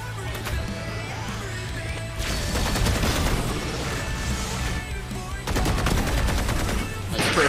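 Gunfire in the video game Valorant: rapid, loud bursts of shots and sharp cracks repeat over a steady game soundscape with almost no pause.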